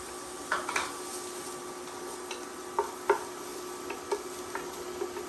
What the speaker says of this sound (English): I am going to use just a tiny bit of olive oil, maybe a tablespoon or 2, just to saute these shallots.